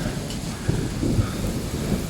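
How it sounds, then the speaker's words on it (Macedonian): Steady rain falls outside the Church of the Holy Prophet Elijah in the village of Raotince, a continuous close hiss with a few soft low thumps of drops, and no one speaks. "Врне."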